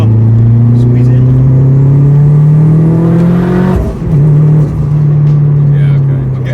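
A turbocharged 534 hp Honda Integra DC5 Type R drones loudly from inside the cabin under throttle, its engine note climbing steadily, dipping briefly on a shift, then pulling on again.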